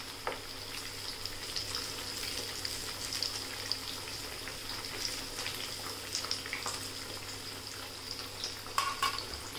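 Crispy alu vadi, colocasia leaf rolls filled with plenty of coriander, fry in oil with a steady, moderately quiet sizzle and scattered small pops and crackles, close by.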